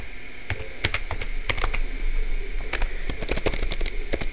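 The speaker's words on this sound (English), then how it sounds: "click on none, and type in landscape" Fast clicking keystrokes on a computer keyboard, close and crisp, tapped in quick irregular bursts with no talking.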